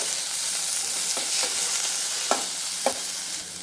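Chopped tomato sizzling as it fries in a pan for uggani, a steady close hiss with a few short stirring scrapes near the end, no talking.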